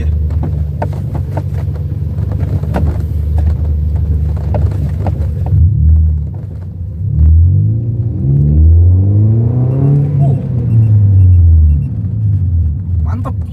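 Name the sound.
Toyota Vios car engine revving on test drive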